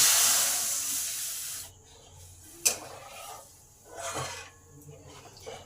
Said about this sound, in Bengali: এই সময় 1 গ্লাস দুধ এটা দিয়ে দিলাম।